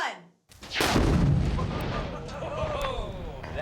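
A 3-pound charge of C4 high explosive detonates in a sudden loud blast, followed by a long rumbling roar and debris noise that fills the rest of the moment after a brief quiet countdown gap.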